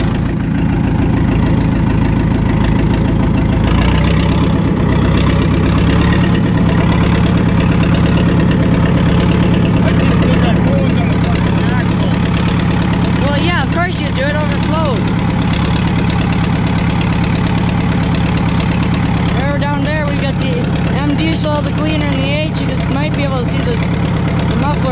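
A vintage tractor engine idles steadily at a threshing show, a continuous low rumble that holds through the whole stretch, with crowd chatter and other voices layered over it in the latter half.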